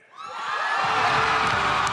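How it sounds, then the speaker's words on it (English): A huge Comic-Con crowd in Hall H in San Diego erupts into screams, whoops and cheers for Harrison Ford joining the Captain America: Brave New World cast onstage, swelling quickly from quiet to a loud, sustained roar. "Screams for Harrison Ford as he joined his Captain America Brave New World castmates on the stage of Hall H at San Diego Comic-Con"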